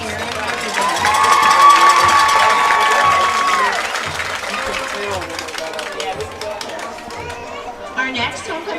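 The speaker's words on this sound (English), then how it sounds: "Please give a round of applause" Crowd at a high school homecoming court presentation, likely a football game between Post and Seagraves, cheering and applauding loudly for several seconds, then fading into chatter and scattered shouts, with an announcer's voice heard.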